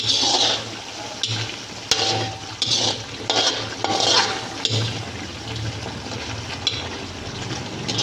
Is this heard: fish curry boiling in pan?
yes